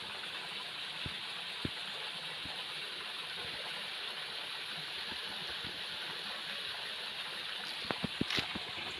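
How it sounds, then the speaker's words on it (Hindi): Forest waterfalls and streams along the Narmada parikrama route in the Shulpani jungle, a steady broadband rush of flowing water with a few brief knocks and splashes, continuous and fairly close. "ये देखिए सुंदर झरने"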